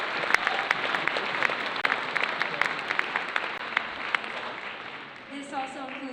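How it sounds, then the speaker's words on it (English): A concert audience at a school spring concert claps steadily in a long round of applause, individual claps audible in the crowd, fading near the end as a voice begins speaking. "So can we please give them a round of applause?"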